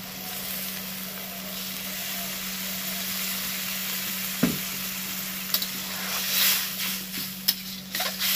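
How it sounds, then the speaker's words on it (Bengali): Palak paneer simmers and sizzles with a little water in a pan, giving a steady hiss and bubbling, with a few sharp clinks of stirring toward the end and no voices. "দেখো জল দিয়ে ফুটতে দিয়েছি"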